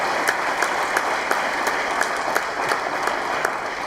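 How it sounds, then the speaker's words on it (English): Audience at an awards ceremony applauding, a dense, steady round of clapping from a room full of people with a few sharper individual claps standing out. "give yourself a round of applause"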